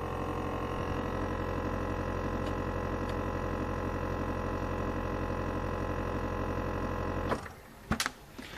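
A vacuum sealer packs steaks, its motor humming loudly and steadily for about seven seconds before cutting off, followed by a few short clicks and clatters.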